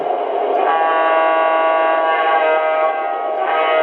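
A Lionel model train horn blares one long, steady chord, loud and close, with a slight swell near the end.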